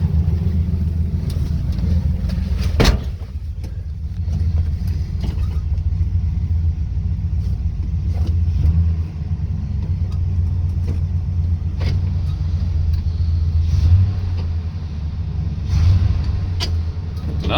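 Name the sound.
1976 Chevy C30 truck engine running, trying to move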